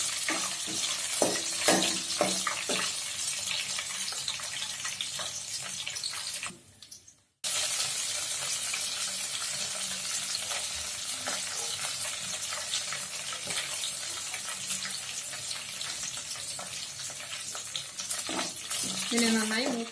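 Curry leaves and dried red chillies fry in hot oil for tomato rice with a continuous bright sizzle and crackle. There is a brief dip near the middle and faint clinks of stirring.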